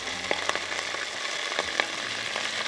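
A Korean pancake made with squeezed-dry filling sizzles and crackles steadily in a frying pan, close and even, with small pops scattered throughout.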